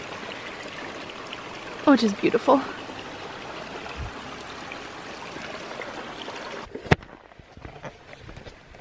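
Soft, continuous trickle and rush of a stream running high after rain in the background while a person speaks briefly, with a few clicks and knocks near the end.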